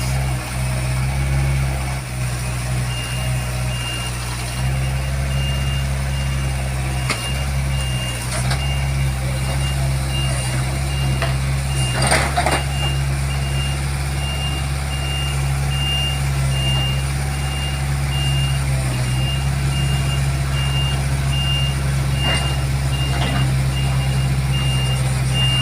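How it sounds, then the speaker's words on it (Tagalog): Backhoe climbing onto a ten-wheeler truck without a ramp, a heavy diesel engine idling and straining steadily throughout with a faint, repeating reversing beep and occasional metallic clanks, while someone talks over it. "tanawa ang backhoe guys. Unsaon niya pagkat-kat sa 10-wheelers truck"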